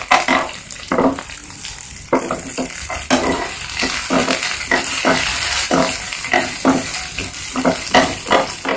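Sliced onion with tamarind sizzles gently in a pan while making spicy peanut chutney, a soft continuous frying hiss broken by repeated scraping stirs of a spoon at an uneven rhythm.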